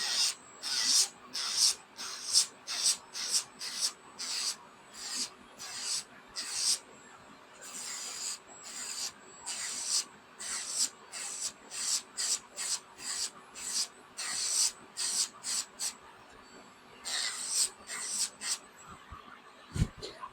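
An electric nail drill spinning at 20,000 RPM files gel polish on a nail, a steady faint motor hum beneath quick, rhythmic rasping bursts repeated throughout.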